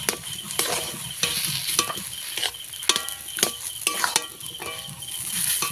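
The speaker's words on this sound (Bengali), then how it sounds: "এবার ভালো করে আলুর সঙ্গে মশলা মিশিয়ে দেবো" Potato filling for aloo patties gets mixed with spices in a kadai over a wood-fired stove, making repeated rhythmic scraping and stirring strokes with sharp spoon clinks against the metal, close and fairly loud over a light sizzle.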